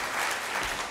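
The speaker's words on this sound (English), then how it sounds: "An applause for this." A lecture audience gives a dense, steady round of applause, many hands clapping together at moderate distance with no voices over it.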